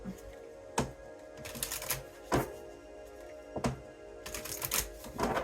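Bursts of crisp paper riffling as a large deck of oracle cards is shuffled, several quick flurries separated by brief pauses, close up and fairly quiet.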